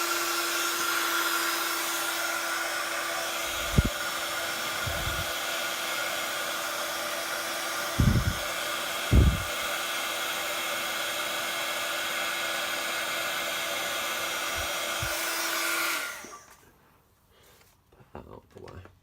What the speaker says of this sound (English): I'm just going to bring in my heat tool and heat set